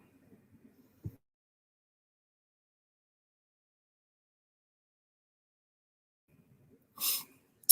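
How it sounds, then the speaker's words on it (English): After a long quiet stretch with faint breathing, a single sharp sneeze bursts out close by, followed by a brief click. "I'm about to sneeze."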